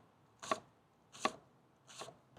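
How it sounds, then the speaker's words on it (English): A knife chops vegetables on a cutting board for a fresh chow chow slaw of bell peppers, Napa cabbage and carrot: three crisp, evenly spaced strikes, close and clear against a quiet background. "So let's start chopping."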